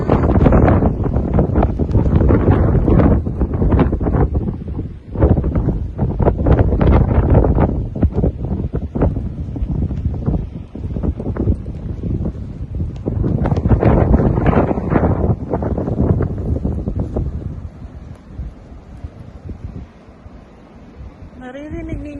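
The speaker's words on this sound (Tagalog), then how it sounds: "Naririnig ninyo yung yung hangin." Strong wind in a Canadian snow storm roars and buffets the microphone in loud gusts, eases briefly, then builds again before dying down near the end.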